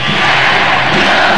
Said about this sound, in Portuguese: E a torcida já grita, é campeão, é campeão.